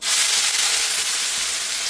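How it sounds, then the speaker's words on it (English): Chopped onions frying in a generous amount of hot ghee in a pot, a loud, dense, steady sizzle and hiss heard up close with no talking. "we're going to start by frying off our onions"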